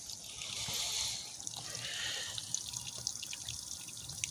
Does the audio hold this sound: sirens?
no